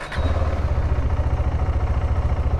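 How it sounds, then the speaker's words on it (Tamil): Single-cylinder engine of a KTM Adventure 390 motorcycle idling close by, a steady low throbbing pulse with a light mechanical clatter over it, running evenly throughout with no speech. "இப்போ பாருங்களேன் என்ஜின் சவுண்டு"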